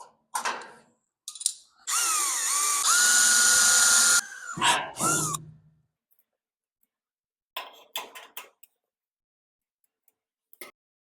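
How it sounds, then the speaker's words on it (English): A power drill bores 1/8 inch holes in a 1964 Ford headlight bucket, heard as short bursts and one longer whining run with pitch shifts, then scattered clicks and handling noises amid silences. "So now I got all the holes drilled and everything clamped in place."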